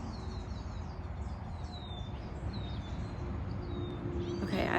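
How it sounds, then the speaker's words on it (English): Small birds chirp in short high calls scattered over steady low background noise beside a river with dragonflies, soft and a little distant, no talking. "I hear birds chirping."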